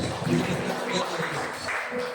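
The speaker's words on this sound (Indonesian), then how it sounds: "Beri tepuk tangan dulu buat Tuhan Yesus" A church congregation applauding at a Sunday service after a prayer, steady dense clapping filling the room at moderate loudness, with a voice speaking faintly over it.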